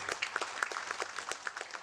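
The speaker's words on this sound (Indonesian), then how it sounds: "Kasih tepuk tangan." Applause at a water utility anniversary ceremony, a short spell of fairly quiet, scattered clapping with distinct individual claps.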